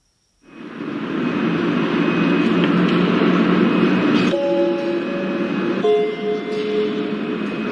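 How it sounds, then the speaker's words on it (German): A train rolls into a station platform with a steady low rumble and rushing noise, then brakes squeal in high tones as it slows. "auf Gleis 3 fährt ein der City-Express nach Hannover."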